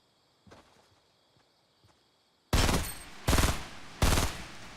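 Gunfire in the video game Fortnite: a soft scattered shot or two, then a loud close burst of several shots in quick succession, ending in heavy rapid fire.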